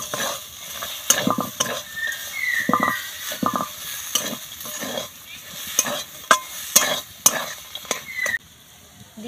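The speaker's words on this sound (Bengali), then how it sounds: "খুব ভালো করে নাড়াচাড়া করে নিলাম।" Khasta roll filling with fried nuts is stirred in a hot pan, a repeated rhythm of spoon-on-pan scrapes over a light sizzle of frying, close and clear with no talking.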